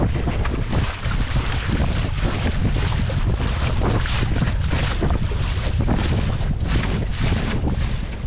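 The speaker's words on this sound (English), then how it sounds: "the wind's picked up just from the sheer pounding we've got on the boats" A boat slams steadily through choppy water as strong wind buffets the microphone, a continuous loud roar with repeated pounding surges.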